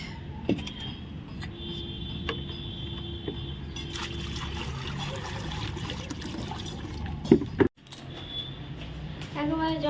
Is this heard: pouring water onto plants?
yes